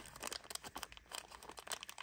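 A small plastic bag crinkles and rustles as it is opened, quick crisp crackles in a rapid uneven run, close and fairly loud with no other sound.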